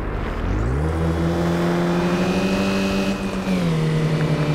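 An Audi A6 2.0 TFSI revs hard and accelerates at high speed in City Car Driving on a slippery road. The steady engine drone climbs in pitch, holds high, then drops briefly, loud and alone.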